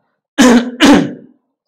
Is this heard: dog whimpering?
no